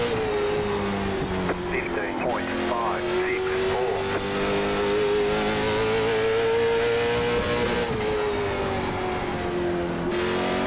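A late model stock car racing at South Boston in the sim game iRacing, a loud steady engine drone that rises and falls slightly through the corner, heard from the cockpit under a voice.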